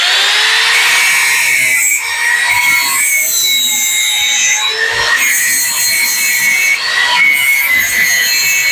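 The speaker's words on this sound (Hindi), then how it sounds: "इसके वाइस में इसको बांधेंगे और इसके ऊपर वाले हिस्से को, जो हमारा रिपीट वाला हिस्सा है, सिर्फ उसको हमें घिसना है" A metal file rasps across a sewing machine rivet clamped in a vise, loud scraping strokes repeated in a steady back-and-forth rhythm with brief pauses between passes.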